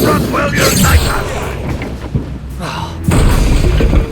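An Incendio fire spell blasts during a duel at a goblin camp in Hogwarts Legacy, with loud booming fiery bursts and thuds amid other combat noise. A voice speaks briefly at one point.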